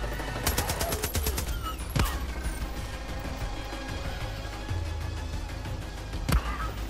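Bursts of video game gunfire in Far Cry 5 during a mountain boss fight: a rapid automatic volley early, then isolated loud shots near the start and end over a steady background din.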